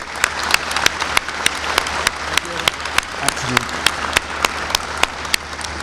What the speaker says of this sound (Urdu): آپ تالیوں سے ان کی اور ان کی ٹیم کی بھرپور ستائش کریں